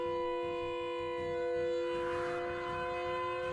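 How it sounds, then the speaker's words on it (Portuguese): A loud warning siren wails in a haunted forest video game featuring Siren Head, a steady multi-tone drone that swells slightly midway and holds without pause. "A sirene tá muito alta."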